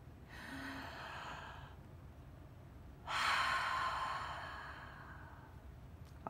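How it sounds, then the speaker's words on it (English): A slow, deep breath taken in calmly and let out over several seconds, with a softer inhale followed by a longer, fuller exhale, heard close and alone without talk. "Let's all take a breath."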